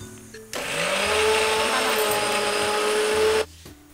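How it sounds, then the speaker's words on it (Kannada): A mixer grinder whirs loudly and steadily for about three seconds as it grinds ginger, garlic, cumin and green chilies with no water added, starting and stopping abruptly in a kitchen on a cookery show. "ಇದು ಮಿಕ್ಸಿ ಜಾರಿಗೆ ಹಾಕ್ಬಿಡೋಣ ಸಣ್ಣ ರುಬ್ಬ"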